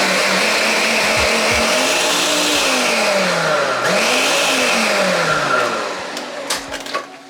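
A kitchen blender pulses cauliflower for mash, motor whirring loudly with pitch rising and falling across several bursts before cutting off into short clatters.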